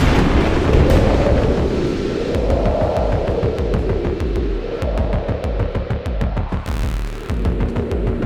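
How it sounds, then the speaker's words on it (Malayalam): An animated storm over a forest: thunder and lightning roll loud and continuous, a deep rumbling swell broken by repeated sharp cracks, with nothing else audible. "ഇടിയും മിന്നലും വന്നു"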